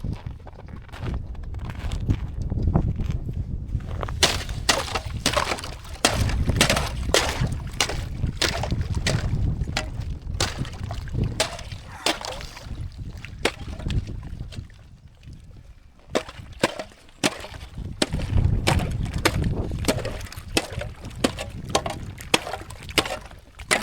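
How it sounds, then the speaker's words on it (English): A shovel breaks and scrapes thin ice in cold weather, sounding as a long run of sharp cracking and crunching impacts in irregular bursts, with quieter gaps between strokes. "being that it's so cold, there's still ice up there. So I'm going to take a shovel."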